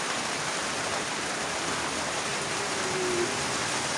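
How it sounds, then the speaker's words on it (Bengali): Steady rain falling outdoors, an even, continuous wash of noise with no breaks, moderately faint and heard alone. "আবার বৃষ্টি।"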